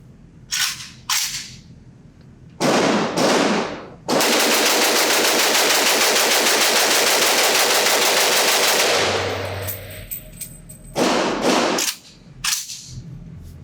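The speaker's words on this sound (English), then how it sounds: "I gotta do a mag dump with this thing. I wanna see if I can shoot this thing fast." Rapid semi-automatic mag dump from a Zastava ZPAP M70 AK rifle fitted with Magpul and UTG parts, firing at an outdoor range: several single shots, then a long dense burst lasting about five seconds, followed by a few more loud shots.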